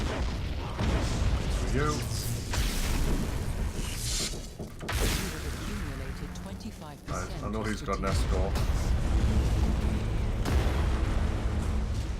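Loud booming explosions and torpedo fire from a space strategy video game battle, repeated heavy bursts filling the mix while someone talks over them.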